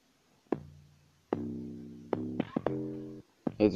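An amapiano percussion patch called Perk 23 in FL Studio Mobile plays a series of sharp, pitched hits, each with a short ringing tail, in an uneven pattern, played alone at moderate volume.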